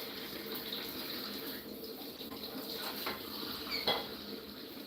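Tap water runs steadily to fill a bird bath for pet lovebirds, a constant close hiss and splash lasting several seconds, with faint clinks and bird chirps in the background.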